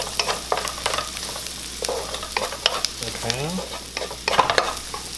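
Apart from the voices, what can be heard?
mushrooms frying and being stirred in a pan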